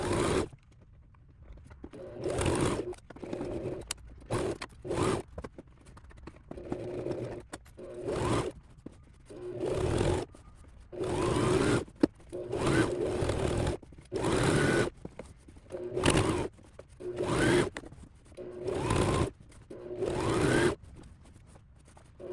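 Sewing machine stitching a lined tote bag, repeated bursts of rapid whirring stitching separated by short pauses, close and clear with no talking.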